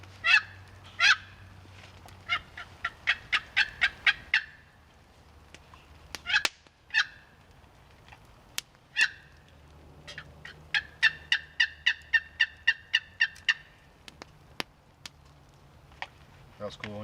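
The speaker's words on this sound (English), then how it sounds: "I got a gobble out of one of them." Turkeys gobble outdoors in repeated rattling bursts, several rapid volleys spread across the stretch, moderately close, with a few sharp clicks and low background hum between calls.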